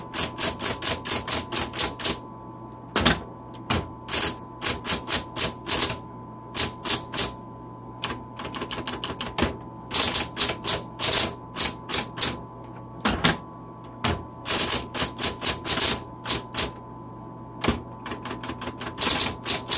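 Rapid keystrokes on a 1970s Smith Corona Electra 210 electric typewriter clatter in bursts, crisp and close, with short pauses between runs and a steady motor hum underneath.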